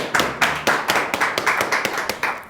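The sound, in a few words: applause for students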